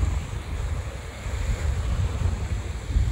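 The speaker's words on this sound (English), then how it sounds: "So yeah, we're at the beach." Ocean surf at the beach gives a steady rumbling wash, with waves rolling in close and wind buffeting the microphone. No one speaks.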